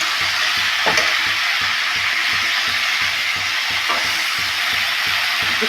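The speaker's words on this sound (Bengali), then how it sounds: "শাক চচ্চড়ি বসিয়ে দিয়েছি অলরেডি।" Leafy greens shak chorchori, with jackfruit seeds in the pan, sizzle steadily up close, a constant hiss broken by a few sharp spatula clinks and stirring scrapes.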